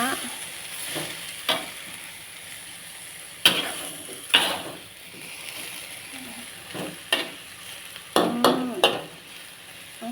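Baby corn stir-fries in a pan with a soft steady sizzle, broken by sharp scraping and clinking strikes of the utensil against the pan at irregular intervals.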